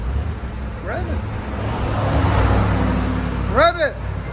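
Porsche Cayenne S twin-turbo V6 on its stock exhaust gives a subdued low engine drone that builds briefly, with short spoken bursts from people nearby at the start and near the end.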